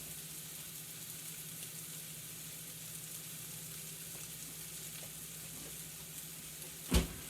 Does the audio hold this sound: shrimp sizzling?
yes